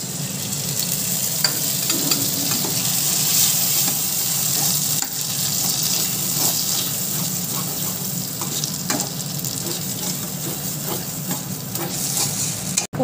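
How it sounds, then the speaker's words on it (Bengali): Ground spice paste sizzles in hot ghee in a pan, a loud, steady, close frying hiss that lasts throughout, broken by light stirring scrapes and ticks. "আগে থেকে আমি মশলাটা বেটে রেখেছি ওখানে আমি দিয়ে দেবো।"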